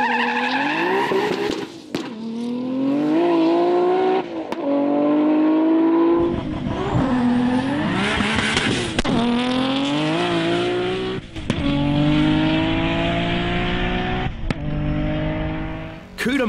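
A Nissan GT-R on a drag strip at the Cootamundra GT-R Challenge screams through rapid gear changes, loud high-revving engine climbing and dropping in pitch repeatedly, with brief tire chirps between shifts.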